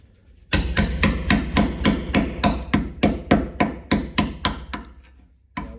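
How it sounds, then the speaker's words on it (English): A hammer chips old putty away in a rapid run of about fifteen sharp, evenly spaced knocks, loud and close, with no talk. "Got her pretty good chipping away now. See how that piece it's just flying off now."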